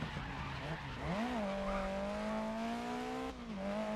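A car in the Grid Legends racing game slides through a corner on the handbrake, its tires skidding in a long, loud squeal over a steady engine tone that bends in pitch and holds for several seconds, with no voices.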